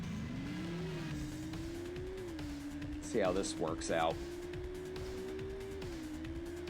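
A Shelby Cobra races in the Dreamcast game Test Drive 6, its engine holding a steady drone that climbs and dips, with a brief burst of squealing tires midway. Someone talks over it.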